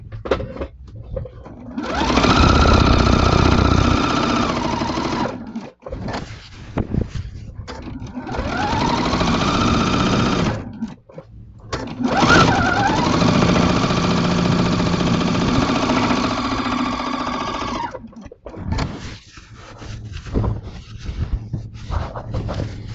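Sewing machine quilting a fan-folded quilt with a walking foot, running in three long loud bursts of steady motor whir separated by short pauses, with faint handling noise in the gaps.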